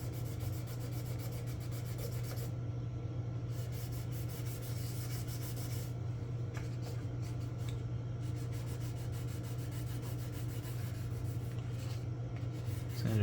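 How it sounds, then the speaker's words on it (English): Sanding filler off sink marks on a 1/535 scale Atlantis plastic model of the USS Iowa, a continuous close, quiet rapid rubbing rasp with brief pauses, steady in loudness throughout. "so I'm gonna sand most of this stuff off"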